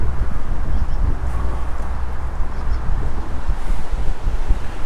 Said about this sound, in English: Kind of windy, but I like it.